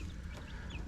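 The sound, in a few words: Silkie chickens clucking in brooder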